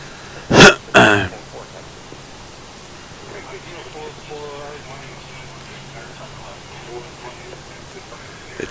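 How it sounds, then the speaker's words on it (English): A man gives two quick, harsh throat-clearing coughs close to the microphone, followed by a quiet stretch with only a faint murmur in the background. "Yeah, my cough's acting up again,"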